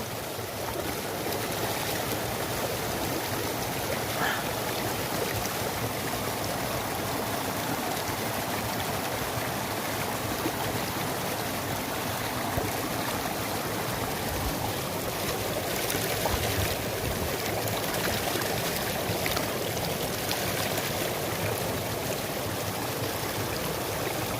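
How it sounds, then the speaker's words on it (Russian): Cold, clear spring water flows out from under stones in a natural setting, a steady, close rushing and trickling wash that continues without a break and without voices. "Родник. Прям очень холодный. И чистейшая вода."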